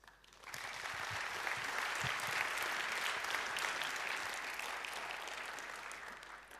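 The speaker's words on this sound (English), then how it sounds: "please give a warm round of applause for a free and open source Verilog-to-Bitstream flow for iCE40" Conference audience applause welcoming a talk on an open source FPGA toolchain at a large hacker congress, swelling in quickly from a few claps into a broad, sustained roar of many hands that slowly eases off.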